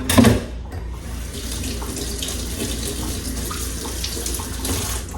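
Water runs steadily from a kitchen tap to wet hands for sourdough bread dough. It gives a close, continuous splashing rush that starts with a brief louder gush.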